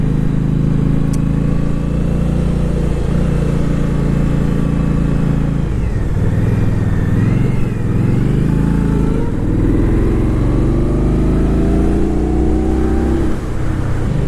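An Indian Scout 60 motorcycle engine runs loud and close throughout a test ride, a continuous throaty drone with rising and falling revs as the rider accelerates and shifts.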